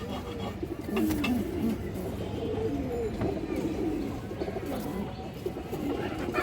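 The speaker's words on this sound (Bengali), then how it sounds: "খুবই সুন্দর একটা মাদি কবুতর" A female pigeon coos in soft, repeated low murmurs at a pigeon market, steady and close, with faint background bustle.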